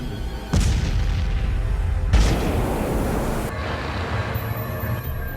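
Movie nuclear blast striking mutated piranhas, with two heavy booming explosions a second and a half apart, each followed by a long rumbling roar that fades into a lower, steady hum.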